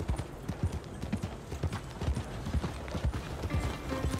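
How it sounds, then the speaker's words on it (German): Horse hooves clip-clop in a steady rhythmic gait while riding in Red Dead Redemption 2, with an occasional whinny, continuous and fairly close. "Wir reiten jetzt."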